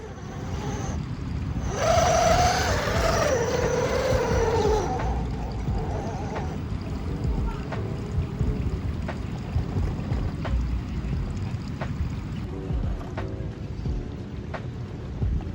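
Toyota 4Runner RC crawler with independent front suspension, crawling over a course obstacle: a small electric motor whines and strains for a few seconds, then settles into steady close rumbling with faint ticking.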